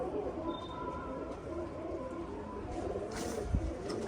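Pigeons perched up high on a rooftop coo softly and continuously, a low murmur blended with steady outdoor background noise and a brief thump near the end.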